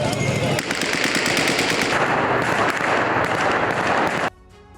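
Dense automatic gunfire rattles without a break outside Syria's presidential palace, loud and close, with rapid overlapping bursts. It cuts off abruptly near the end, leaving quieter background noise.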